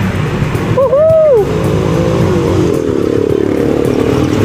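A matte black 160 motorcycle rides along with a steady close engine drone, some wind noise and a brief excited voice over it.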